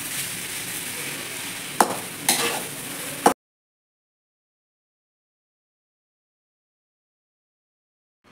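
Soybean bhurji with coriander is stirred in a pan, giving a soft sizzle and a couple of sharp spoon scrapes before the sound cuts out into silence.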